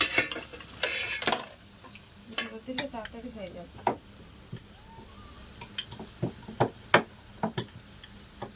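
Luchi, small puffed breads, frying in hot oil at home, with soft sizzling beneath frequent close clinks and knocks of utensils and pans, and a voice speaking briefly.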